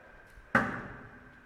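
A single sharp thunk as a heavy Cold Steel Pro Balance throwing knife, thrown from 2.4 metres with a half spin, strikes and sticks in a target, with a short ringing decay, otherwise quiet.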